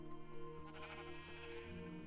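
Sheep in Minecraft bleating, a couple of wavering nasal bleats with clear harmonics over a quiet background, close and moderately loud.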